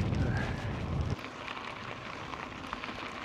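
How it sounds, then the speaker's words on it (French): Rain falling during a bike race in Charente on a cold day, a steady soft patter with a louder low rumble early on that drops away after about a second. "le truc qui nous manquait, il pleut."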